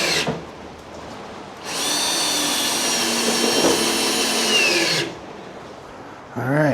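A power drill drives screws into a box truck's custom entry door, a steady, loud whine lasting about three seconds, bracketed by short bursts of quieter handling noise.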